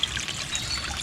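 Water from a small waterfall trickles and splashes steadily into a natural koi pond, a close, continuous bright babble with no voices.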